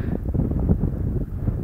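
Steady wind buffeting the microphone over an open farm field on a sunny day, a continuous low rumbling roar with gusty swells throughout.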